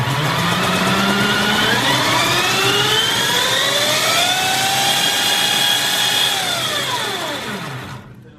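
Small R/C car engine screaming on a homemade dynamometer during a test run, a loud sustained whine climbing steadily in pitch, holding, then dropping away as it shuts down, with no voices.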